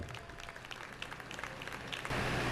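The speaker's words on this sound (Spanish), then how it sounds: "Quiero pedir un fuerte aplauso para el doctor Carlos Miranda Levy desde República Dominicana." Audience applause at an education conference in the Dominican Republic, a dense, steady wash of clapping from a crowd that swells louder in the final half second.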